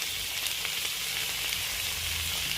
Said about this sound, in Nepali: यसमा म अब क्याप्सिकम राख्छु, गाजर,